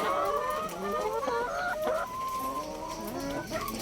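Chickens on a Bandur sheep farm in Hassan cluck and call in a busy, overlapping chorus, fairly close and moderately loud, with no speech.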